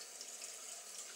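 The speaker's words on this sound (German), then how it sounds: "Wasser laufen, ja, weil wir jetzt gleich das Gemüse abkippen werden." A kitchen tap runs steadily while vegetables are about to be drained, a continuous hissing stream of water close by and fairly quiet, with no voices.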